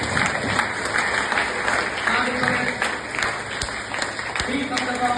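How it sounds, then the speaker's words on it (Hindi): A seated audience at a parenting and stress-management session applauds themselves, a dense continuous patter of hand claps at close range with a voice talking over it. "और अब फिर से एक बार दिल से खुद के लिए तालियां बजाओ"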